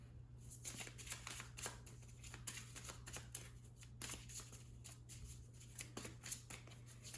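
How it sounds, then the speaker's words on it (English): Tarot cards are shuffled close up in a quiet room: repeated crisp riffling and flicking bursts over a steady low hum, with no talking. "So I'm going to pull some more cards."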